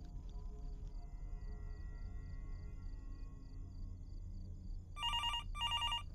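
A telephone in a motel in the horror game Fears to Fathom: Norwood Hitchhike rings in two bright electronic bursts near the end, over a low ambient drone with no talk.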